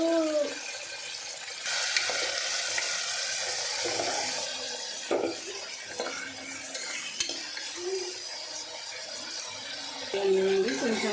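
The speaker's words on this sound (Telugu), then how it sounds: "సన్నగా తరిగిన పచ్చిమిర్చి ఉల్లిపాయలు వేస్తున్నా" Finely chopped onions and green chillies fry in a pan with a steady, close sizzle, broken by stirring scrapes and utensil clinks against the metal.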